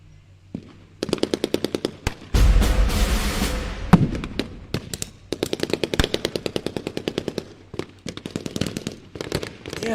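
Enemy gunfire in a strategy video game: rapid machine-gun bursts of sharp cracks in repeated volleys, with a loud heavy blast partway through, close and dominant with no talk.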